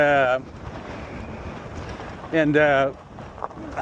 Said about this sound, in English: Boy, that wind about blows you over.